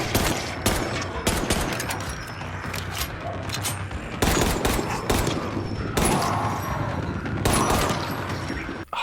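Sustained gunfire in the zombie game Dying Light 2 Reloaded on PS5, dense bursts of shots with heavy kick, loud and close, coming in repeated volleys with brief gaps across the whole stretch.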